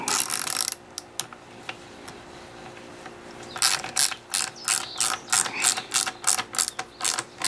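A ratchet tightens a bolt on an Evinrude 15 HP long-shaft outboard motor, starting with a brief burst of clicks, then a quiet pause, then a close, loud series of rhythmic ratcheting strokes with no speech.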